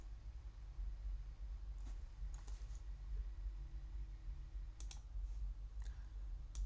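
Computer keys are tapped in short scattered clusters while entering a username into an AWS console, faint and close over a low constant background rumble.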